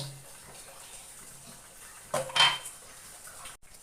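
Homemade neem soap mixture stirred in a pot, a brief burst of metallic clinking and scraping near the end after a quiet stretch, close by.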